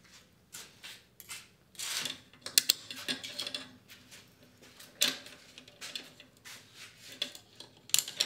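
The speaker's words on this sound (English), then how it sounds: "these two ratcheting rope hangers would need to clip on to one side of this thing" Ratcheting rope hangers being fitted to a Spider Farmer SE7000 bar grow light, giving quiet, intermittent clicks, creaks and mechanical ratchet ticks with handling noise, close by and with no talking.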